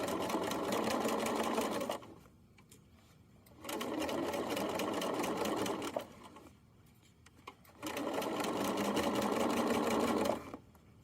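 Sewing machine topstitching around the bottom panel of a fanny pack, stitching in three long loud steady bursts with short quiet pauses between them, no talking.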